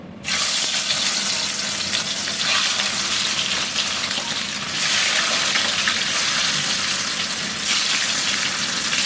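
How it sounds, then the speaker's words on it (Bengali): Rohu fish pieces fry in hot oil in a pan, giving a loud, continuous crackling sizzle that surges in brief waves throughout, with no voices. "আমি এই রুই মাছটা এখন ভেজে নিব"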